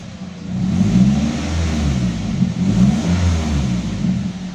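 Car engine revved with a valvetronic exhaust set to standard mode and ending in a muffler, heard from inside the cabin: a steady deep, bassy drone that swells under throttle and stays fairly loud throughout.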